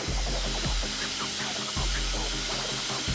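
A hair dryer blows on cut long layered hair with a loud continuous whooshing roar, its pitch wavering as the airflow shifts, close and steady with no speech.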